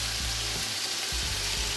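Peppers and onions frying in a pan give a steady, broad sizzle that holds at an even level throughout the short stretch, with no talking over it.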